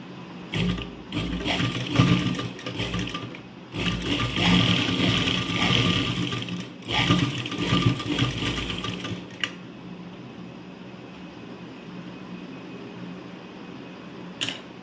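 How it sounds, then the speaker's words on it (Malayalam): A sewing machine stitches a folded churidar hem in close, rapid whirring runs, pausing briefly between bursts before going quiet near the end. "മടക്കിയ ശേഷം സ്റ്റിച്ച് ചെയ്യാം"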